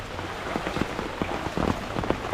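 Heavy rain during a typhoon patters steadily and densely on surfaces nearby, a soft continuous wash with scattered sharper drops, heard alone.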